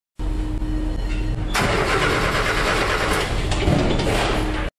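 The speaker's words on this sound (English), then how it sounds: "We just replaced the fuel pump, now the vehicle's running." A car engine cranks and catches after its fuel pump was replaced, then settles into a steady, loud running idle close by, with no voices over it.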